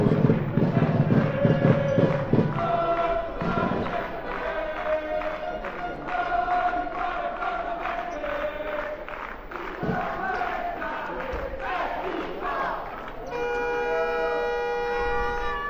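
Fans of Faenza cheer and chant loudly from the stands at a Padova basketball game, a dense crowd roar with horns and shouts running throughout, while a commentator talks over it.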